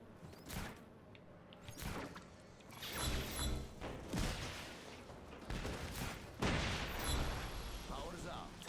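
Explosions go off in a video game, a run of heavy booming blasts and crackling bursts that come in quick uneven succession, some overlapping, loud and close.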